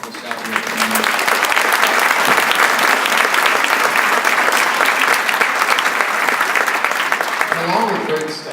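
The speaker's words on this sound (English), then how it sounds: "if you could just give a round of applause to the wonderful staff here tonight" Loud, dense applause from a concert audience for the school staff, sustained for several seconds before tapering off, with a voice starting up at the end.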